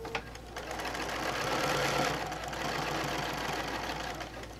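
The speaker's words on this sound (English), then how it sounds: "I'm going to stitch right to that diagonal line, sink my needle, pick up my foot, and then take off down the side." A sewing machine stitches a separate French binding, running continuously and fairly loudly with a steady whirring hum that builds slightly, then holds, with no talking.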